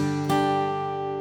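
A guitar is strummed in a pattern focused on the top four treble strings, giving a bright, ringing chord with a strong accent near the start that sustains and slowly fades, heard alone.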